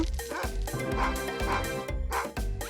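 A dog barks repeatedly in short, strong yips and woofs, close and loud, in a steady run of several barks over a dense background.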